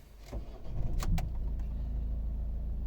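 A 2011 Volvo V50 with the 1.6 D2 diesel engine cranks briefly and fires up, settling at once into a steady low diesel idle, heard close and alone.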